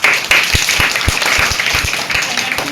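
Audience applause at a school farewell ceremony for eighth-grade students, steady dense clapping throughout with a few louder individual claps standing out near the front.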